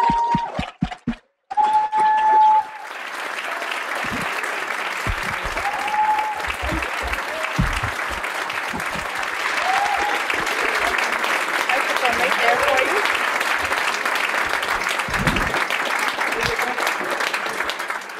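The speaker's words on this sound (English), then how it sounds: "we'll give them the largest applause that we can now to welcome to the stage" Audience applause welcoming speakers to the stage at a fireside chat with Nobel Peace Prize winner Muhammad Yunus. A few brief sounds come first, then sustained crowd clapping swells and carries on steadily to the end, with a faint chime tone early on.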